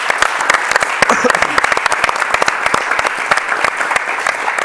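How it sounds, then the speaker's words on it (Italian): A studio audience on an Italian Sunday sports programme claps for young athletes, with crisp, closely packed individual hand claps forming lively applause that holds steady throughout, with no talk over it. "Ragazzi, un applauso anche a voi."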